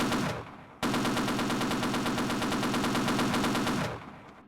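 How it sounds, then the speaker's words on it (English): Sustained automatic gunfire from the video game Half-Life, a dense rapid burst of warning shots that runs for about three seconds, loud and close, with no talk over it. "Fire some warning shots."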